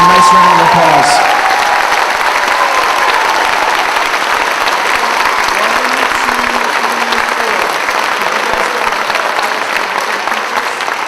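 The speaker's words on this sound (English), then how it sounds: "please give our music teachers and Mrs. Perla a nice round of applause" Applause from the audience at a school spring concert fills the hall, loud at first and then thinning to a steady patter, with a few voices briefly heard near the start.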